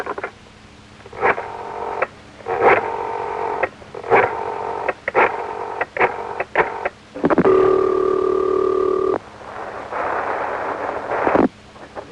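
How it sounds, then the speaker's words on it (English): A rotary telephone dials a call, with a rapid run of rhythmic clicking pulses followed by a steady ringing tone and then a crackly line buzz, heard close and clear over a 1970s novelty phone line. "Let's pick up our telephones and let our Z-Colors listen in as we dial Doris"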